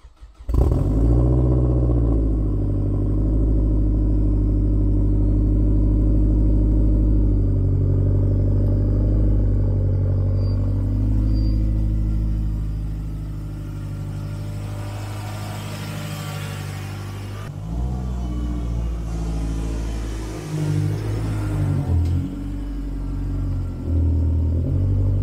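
A Corvette engine cold-starting on a freezing day, settling straight into a loud, deep, steady idle rumble close by, with the tone shifting partway through and a slight rise in revs near the end.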